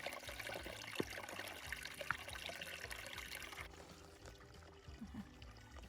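A small seasonal stream trickles and pours over rocks beside a snowy Pacific Crest Trail track, with a soft, continuous burble that stays quiet and close with no one speaking.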